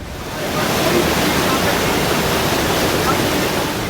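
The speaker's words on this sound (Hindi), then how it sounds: "पानी की रफ्तार और उसका शोर डरा रहा है।" Floodwater after a cloudburst roars in a dense, continuous wash of rushing noise, loud and close, with no breaks.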